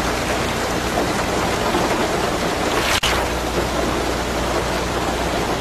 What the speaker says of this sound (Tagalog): Pabilog po, palalaki kasi ang patak ng ulan ngayon.